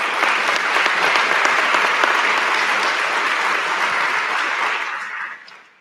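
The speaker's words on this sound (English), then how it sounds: "let's give them a round of applause." Sustained audience applause fills a police promotion ceremony hall, a dense steady clatter of many hands clapping that holds for about five seconds before tapering off at the end.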